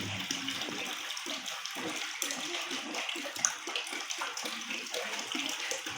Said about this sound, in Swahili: Hayo ni mafuta tumeweka ndani ya mkorogo wetu